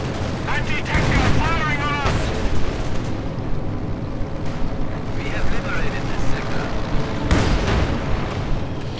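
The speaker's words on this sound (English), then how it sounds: "the field guns are then firing at the wrong Panther" Field guns fire in a Company of Heroes 2 battle, heavy booms and blasts recurring through dense, loud combat noise, with a commentator talking over it.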